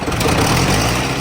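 A Ford 861 Powermaster diesel tractor engine cranks and catches, a loud, close, rough low rumble filling the short moment with no talking.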